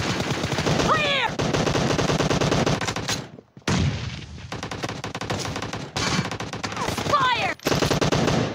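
Rapid, loud gunfire in the mobile shooter BGMI during a team deathmatch, dense close bursts of shots with short breaks, sounding more like automatic fire than single Kar98 rifle shots, with game voice callouts mixed in.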